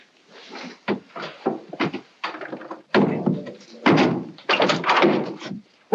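Irregular knocking and thumping bursts come in clusters, some dull and some sharper, separated by brief quiet gaps, like pipes banging.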